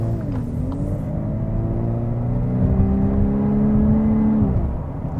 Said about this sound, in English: you can sort of hear that cool sounding exhaust